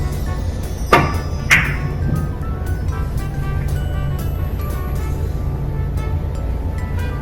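A billiard cue strikes the cue ball for a backspin shot, giving two sharp, clear clicks in quick succession in a quiet room, followed by a low steady background hum.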